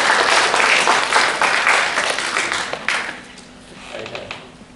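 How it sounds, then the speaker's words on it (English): An audience in a lecture room claps steadily, loud and dense at first, then thinning and fading toward the end, with a few scattered claps lingering. "Give them a clap."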